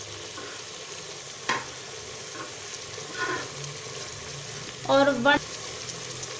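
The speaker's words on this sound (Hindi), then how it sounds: "और अब हम इसकी अच्छी सी भुनाई कर लेंगे।" Cumin, red pepper powder and crushed coriander being fried and stirred into a curry masala in a pan, giving a steady soft sizzle with a few brief scraping stirs and a louder stir near the end, and a short spoken word.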